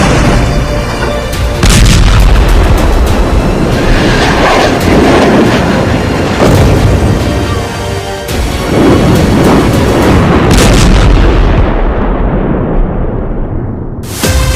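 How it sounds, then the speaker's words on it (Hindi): Heavy, continuous rumbling roar with repeated booming bursts from rocket explosions over Haifa city, loud and close, the din swelling and surging for several seconds before cutting off abruptly near the end. "हिजबुल्लाह आर्मी ने हाइफा में रॉकेट धमाके की झड़ी"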